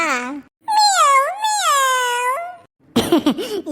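A cartoon cat lets out two long, loud, wavering meows close up, followed by a brief rough vocal burst.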